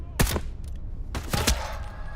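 Gunfire in the video game Into the Radius 2: two loud bursts of shots, one early and one later, with broadband cracks over a steady game background.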